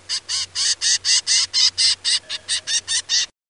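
A zebra finch gives a rapid string of about fifteen short, evenly spaced chirps, close and fairly loud, over a faint low hum.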